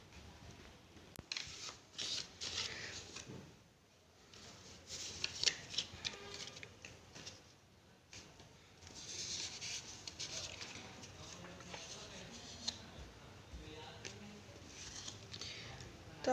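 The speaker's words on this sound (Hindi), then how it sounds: "तो आपके कार्ड मैंने लगा दिए हैं," Tarot cards shuffled and laid out on a surface, soft repeated riffling and slapping strokes with short pauses, fairly quiet and close, with no voices over it.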